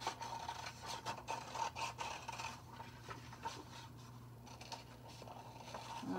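Scissors cutting around the outline of a paper teepee shape, a close, quiet run of soft rasping snips and rubbing strokes that come in uneven bursts over a low steady background hum.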